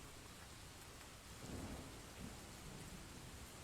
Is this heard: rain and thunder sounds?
yes